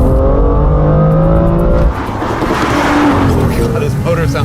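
A BMW M2 F87 straight-six engine revs loudly from the cabin of the manual-transmission car, holding a steady rising drone that briefly dips before climbing again, with speech over it.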